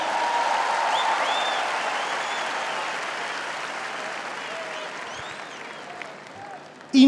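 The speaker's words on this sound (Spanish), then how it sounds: "Y un aplauso para las mujeres." A large festival crowd at the Viña del Mar comedy show applauds continuously, a broad wash of clapping with scattered whistles and cheers that stays steady and slowly eases over seven seconds.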